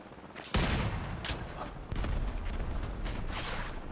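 Rapid helicopter gunfire in the vehicle combat game Crossout, loud continuous bursts of shots with sharp impacts and booms, dense and sustained, no talking.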